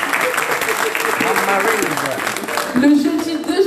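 A church congregation applauds in a continuous wash of clapping, with music and voices mixed in underneath, loud and sustained throughout.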